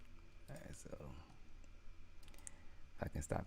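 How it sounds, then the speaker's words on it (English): Mouse buttons clicking at a computer during a live futures trading session, sharp isolated clicks in small clusters, fairly close and quiet, with faint room sound between them. "if I can stop clicking everything."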